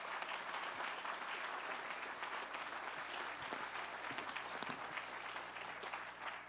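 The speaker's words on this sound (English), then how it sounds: "please give a round of applause to Denise" Steady applause from a crowd at a university groundbreaking ceremony for the Harbor campus, continuous and even but faint and distant-sounding, with a low hum beneath it.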